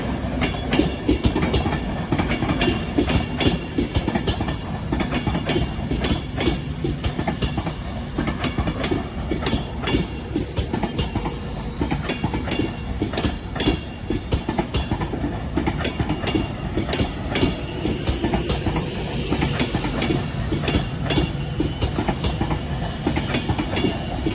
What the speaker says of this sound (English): here comes the 1026 Avanti West Coast service to Liverpool Line Street from London Euston, 390-050